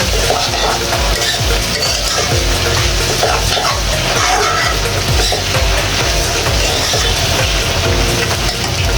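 Noodles are stirred in a pan with ghee, giving a loud, continuous sizzle and frying crackle. Scraping and stirring scrapes sound close up throughout, with no talking.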